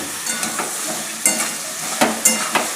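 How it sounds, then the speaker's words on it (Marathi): Mixed vegetables with peanuts and green chillies stir-fry in oil for a rustic Bhogi bhaji, a close hiss punctuated by several sharp spatula knocks and scrapes against the pan. "आता हे चांगल्या तेलावर दोन मिनटं ही भाजी अशी परतून घ्यायची"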